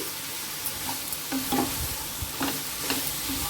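Bitter gourd pieces fried with onion and coconut are stirred in a pan, with a steady sizzle of oil under soft, irregular scrapes and clinks of the spoon against the pan.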